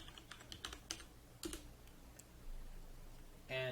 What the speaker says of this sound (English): you can open up a command prompt, type in ipconfig